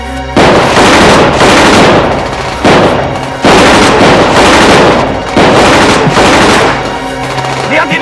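Heavy automatic gunfire in a shootout, loud and close, coming in long sustained bursts separated by brief pauses.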